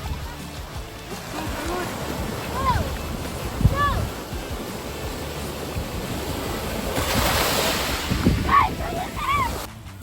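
Ocean surf washes and rolls steadily with wind buffeting the microphone, while voices call out and chatter intermittently over the water.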